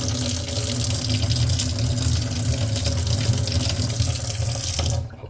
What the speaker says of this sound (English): So you just run this under the water and just let it soak.